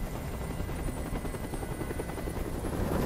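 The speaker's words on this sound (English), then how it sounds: "Tell that helicopter to get out of here!" Helicopter hovering in the video game Detroit: Become Human: a loud, continuous rotor chop and engine whine fills the scene without any break, close and dominant, with no speech.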